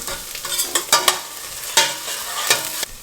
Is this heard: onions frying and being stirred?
yes